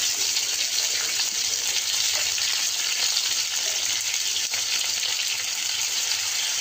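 Chopped tomato and sambar masala frying in a pan, a steady, even sizzle that fills the whole stretch, with faint stirring underneath.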